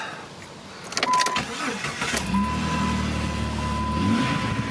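A Saturn Aura car engine turns over and settles into a steady idle, close and fairly loud, with wind noise in the background.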